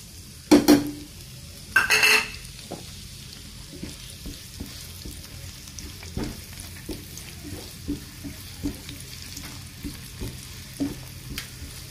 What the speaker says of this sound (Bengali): এখন আমি কেটে রাখা পেঁয়াজ কুচি, রসুন কুচি, কাঁচামরিচ দিয়ে দেব